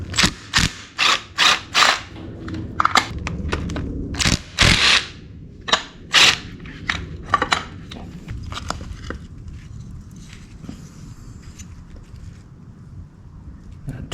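Screws come out of a vintage Yamaha Enduro motorcycle, with a burst of sharp, close ratchet clicks in quick bursts. A lower, steadier mechanical rumble fills the rest.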